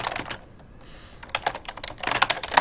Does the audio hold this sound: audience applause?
no